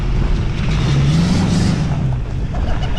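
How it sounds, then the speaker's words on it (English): A truck whose exhaust has fallen off drives away, a loud, throaty low rumble with rough revving that swells and then eases slightly, close by and unbroken. "That truck is loud now."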